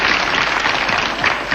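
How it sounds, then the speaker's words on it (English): A studio audience on a talk show breaks into sustained applause, a dense steady wash of clapping filling the whole moment with no voices over it. "you can see the audience already applauding"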